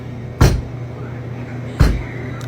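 Two sharp knocks sound from a back room, spaced over a second apart, fairly loud against a low steady hum.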